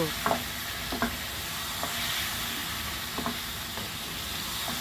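Mutton pieces go into frying spices and are stirred in the pan, giving a steady low sizzle broken by about half a dozen soft scraping strokes spaced roughly a second apart.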